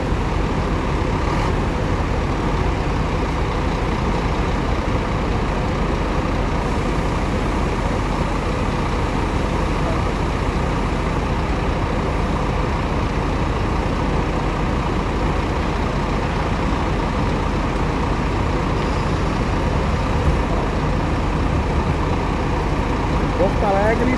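Intercity bus engines idle at the Porto Alegre bus station, a steady deep diesel rumble that fills the whole stretch at constant loudness, with voices faintly mixed into the background.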